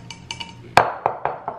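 Small double-walled latte glasses clink together in a quick series of light, bright taps, close by, one sharper knock followed by three softer ones.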